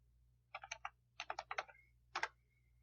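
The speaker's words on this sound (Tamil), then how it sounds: "அடுத்து ஏஜ் டைப் பண்ணிக்கிறேன்" Quiet keystrokes on a computer keyboard while entering spreadsheet data come in three short clusters of rapid clicks, close and alone over a faint hum.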